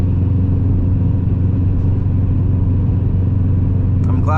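Steady low rumble of a stiff-riding car cruising over a bumpy road, heard from inside the cabin, with constant engine drone and faint road thumps throughout.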